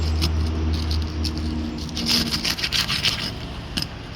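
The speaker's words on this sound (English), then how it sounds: "I'm going to start by breaking these seals so we can get to our nails" A roof snake tool scrapes along brittle roof shingles to break their seals, giving a close, continuous rasping and rubbing with a low hum beneath and sharper bursts of scraping toward the end.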